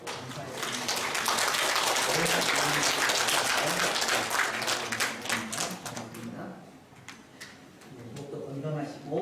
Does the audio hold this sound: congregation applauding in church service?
yes